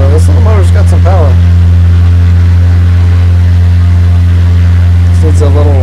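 A small repulsion electric motor runs at about 2,500 RPM, drawing 7 amps, a loud constant hum with a steady whine, with someone talking briefly over it at the start and end.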